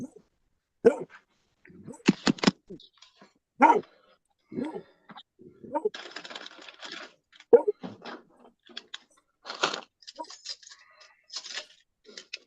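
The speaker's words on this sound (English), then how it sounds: "He's barking that hard that her front paws are lifting an inch off the floor every time she barks." Loud, sharp dog barks burst out repeatedly in irregular clusters, close by, with short pauses and some rustling noise between them.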